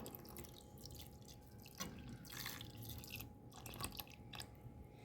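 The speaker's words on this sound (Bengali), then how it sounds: "এবার দুধটাকে ঢেলে দেওয়া হচ্ছে জাস্ট ওয়াও" Milk pours into frozen chitoi pitha, a faint wet trickling and dripping with a few soft splashes, steady and quiet throughout with no talk.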